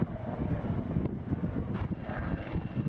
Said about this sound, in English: buzzing around it in a chopper